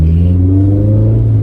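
Honda S2000 with a straight-pipe exhaust revs up nearby, a loud, raspy engine note climbing steadily in pitch over a brief burst with no talking.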